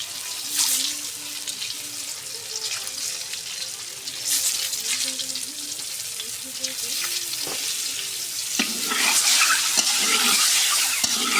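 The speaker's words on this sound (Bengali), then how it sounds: "দেখুন ডিমগুলো ভাজে নিব" Eggs frying in oil with turmeric in a home kitchen for an iftar meal, a steady close sizzle mixed with clattering and splashing that grows louder toward the end, with quiet talking in the background.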